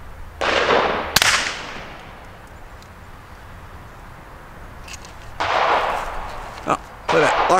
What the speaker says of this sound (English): So out of my little 22 long rifle Montgomery Ward,